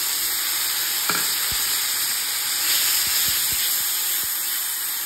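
Onion, ginger, tomato and garlic paste sizzles steadily in hot oil for a spicy Bengali crab curry, a continuous bright hiss with a few soft clicks of stirring and no talk.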